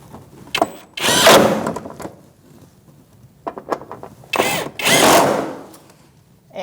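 Two bursts from a power drill driving bolts while a washer fluid reservoir is installed on a 2016-2019 Chevrolet Cruze, each lasting about a second. Quieter clicks and handling noises fill the gaps between them, with no talking.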